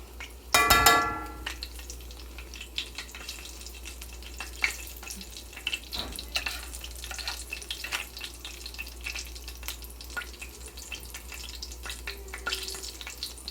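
Food fries in a pan with a steady, close crackling sizzle that runs throughout, opening with a brief loud clatter as the pan is stirred.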